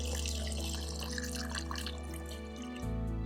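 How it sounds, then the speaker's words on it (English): Vinegar pours into a cooking pot in a medieval Arab kitchen setting, a steady close liquid trickle over a constant low hum. "now we're going to add the vinegar"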